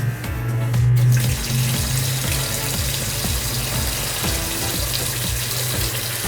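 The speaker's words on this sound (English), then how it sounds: "Just going to turn the hot tap on, so that's going to give us the maximum burner pressure" A hot water tap turned fully on during a home gas safety inspection, giving a steady loud rush of running water into a sink, with a few soft knocks and clunks over the continuous flow and no talking.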